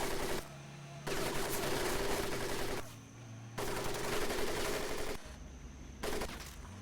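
Loud bursts of automatic gunfire rake over a Marine training mud pit in the video game Medal of Honor: Pacific Assault, coming in several long, dense volleys separated by short quieter gaps, with no talk.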